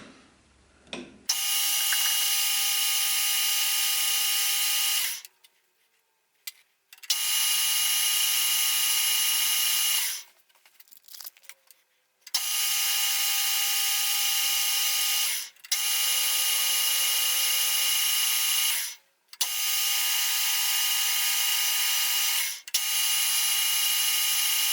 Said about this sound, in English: start cutting this thread